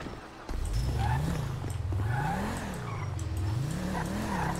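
A BMW in GTA V drives with a low engine note that rises and falls in repeated swells as the car accelerates and skids, its tires squealing, with faint chatter in the background.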